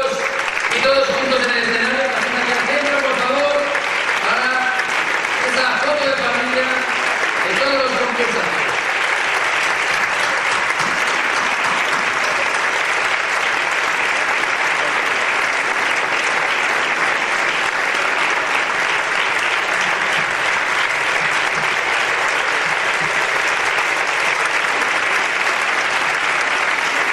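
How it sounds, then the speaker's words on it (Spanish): An award ceremony audience applauds as winners gather on stage, a dense, loud, unbroken wash of clapping; a voice talks over the first third before the clapping continues alone. "Fuerte aplauso para todos ellos"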